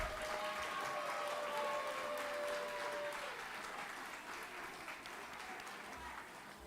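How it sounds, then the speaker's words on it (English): An audience at a live community gathering applauds steadily for several seconds, a dense, even clapping that holds at a constant level, with a faint tone and some murmur underneath. "A big round of applause to them for doing the right thing."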